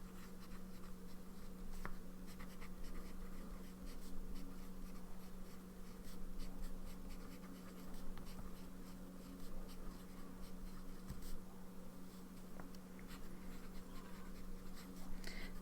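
Fountain pen nib scratching across paper while writing, inked with Ferris Wheel Press Timeless Blue: a continuous soft scratchy rasp with short strokes and pauses, close and quiet over a faint steady hum.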